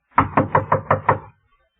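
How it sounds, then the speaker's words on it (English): Six firm, evenly spaced knocks on a locked apartment door, close and loud, followed by silence. "The door was locked, so I knocked."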